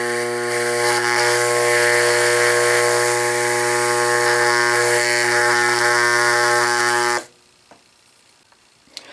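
Loud, steady electrical hum of a growler demagnetizer running with a small cup of steel chips inside, a buzzing drone with strong harmonics lasting about seven seconds before it cuts off abruptly to near silence.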